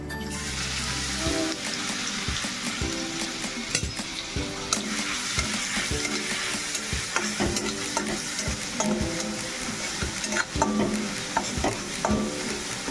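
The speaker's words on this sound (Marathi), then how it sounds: "त्यात आपण आलं लसूण पेस्ट घालूया।" Ginger garlic paste frying with black pepper, cloves and cinnamon for a homemade prawn biryani, stirred steadily in the pan with a constant sizzle and repeated scraping strokes throughout, close and fairly loud.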